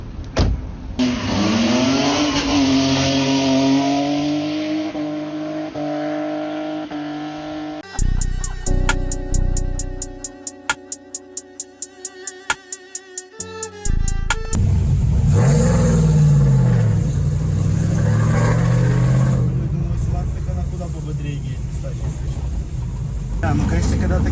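A drift car at a street league event revving hard as it pulls away, with a loud strained engine note rising and falling, a sharp rapid stuttering limiter burst in the middle, and someone speaking over it.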